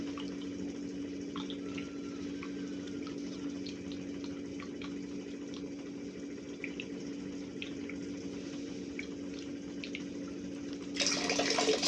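An Enagic Kangen water ionizer machine hums steadily as water pours out in a continuous trickle with light splashing, getting a bit louder toward the end.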